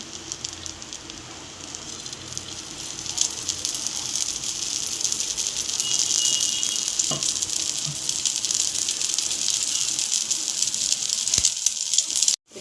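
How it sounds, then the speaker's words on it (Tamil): Beaten egg poured into a little oil in a pan over a low flame, producing a loud, continuous crackling sizzle that holds steady throughout and cuts off abruptly at the end. "இந்த மாதிரி முட்டையை ஊற்றிடுங்க"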